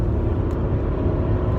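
BMW 545i with its 4.4-litre V8, a dense low engine rumble heard from inside the car, steady and loud across the short stretch of acceleration.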